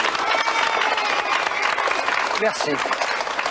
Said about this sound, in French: Et puis on va t'applaudir